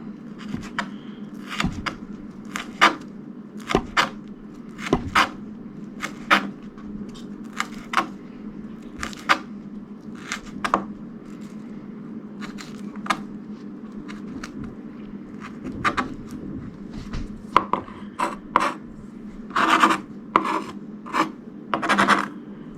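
Wild onions are sliced with a knife on a cutting board, crisp repeated chopping taps in uneven bursts over a faint steady background, close and fairly loud.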